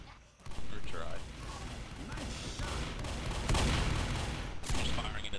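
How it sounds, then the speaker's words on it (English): Gunfire in Left 4 Dead, shooting into a cornfield, with continuous loud bursts and rattling shots blending into a dense, sustained barrage with a few sharper cracks. "I'm just firing into the cornfield, trying to take anything out."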